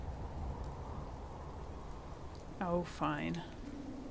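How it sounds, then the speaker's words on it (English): Steady rain falls in Fallout 4, a soft continuous hiss that holds throughout, with someone briefly speaking over it near the end. "Oh, it's starting to rain."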